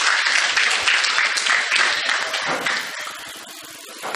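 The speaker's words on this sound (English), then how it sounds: "A clap for them, please." Audience at a Mombasa quiz night applauds two guest speakers, a dense, loud burst of clapping that fills the room and gradually thins and fades toward the end.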